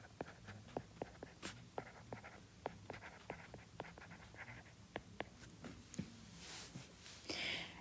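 Handwriting on paper, probably pen or pencil on a worksheet, in a run of short scratchy strokes with small taps, quiet and close, with no talking.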